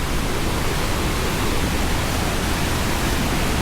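Mother Falls in Baler, a waterfall roaring loud and close as a continuous broadband rush with no pauses.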